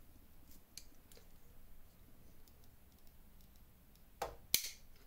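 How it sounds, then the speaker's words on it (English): Multitool blade snapping closed, a sharp, close click near the end of a quiet stretch with faint handling noise, preceded by a softer snap just before. "And it snaps closed."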